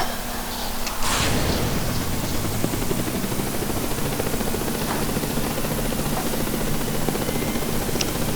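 A video game helicopter's rotor thrums loudly and steadily, a dense continuous chopping roar that starts abruptly and holds without pause.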